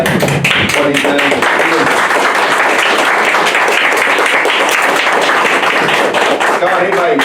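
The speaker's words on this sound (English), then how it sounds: "round of applause, everybody" A room full of people at a county board of commissioners meeting in McDowell County, North Carolina applauds steadily and loudly, with dense overlapping claps throughout.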